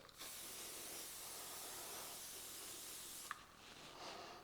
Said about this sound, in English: So I'm just going to spray hairspray over this.